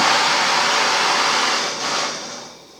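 Torch heating a silver coin for jewelry making, a loud steady roaring hiss close by that wavers near the end and then tapers off, with no talk.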